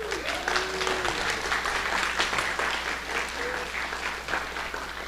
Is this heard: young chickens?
no